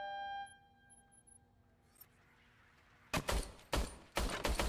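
Gunfire from a service pistol in the video game RoboCop: Rogue City, several loud, sharp shots in an uneven burst near the end, following a quieter stretch of faint ambience and a steady tone.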